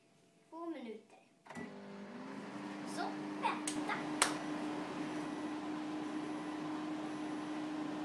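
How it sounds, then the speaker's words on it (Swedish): A kitchen microwave oven reheating fudge clicks on after a beep and settles into a steady low hum and whir close by, with faint clatter early on and a voice heard briefly before it starts. "Nu ska vi ställa den i mikron en gång till i 2 minuter."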